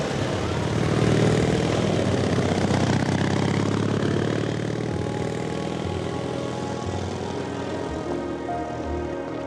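A propeller airplane drones loudly and steadily overhead in a dramatic scene, its engine rumble filling the whole stretch without pause or break.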